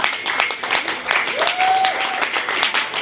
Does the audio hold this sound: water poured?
no